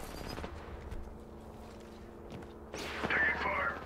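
Gunfire in the video game Apex Legends, rapid bursts of automatic shots crackling in short clusters with a louder flurry near the end, mixed with a voice speaking over the action.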